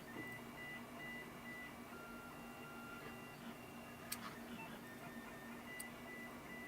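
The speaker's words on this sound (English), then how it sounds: "Now, is that your printer making that noise?" A printer runs faintly in the background of a home kitchen, a low steady mechanical whir with a few faint tones and two sharp clicks partway through, no voices present.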